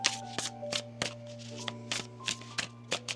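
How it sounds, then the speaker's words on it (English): A deck of tarot cards being shuffled by hand: rapid riffling bursts and soft slaps repeat roughly every half second, close and clear over a steady low hum, with no talking. "One more shuffle."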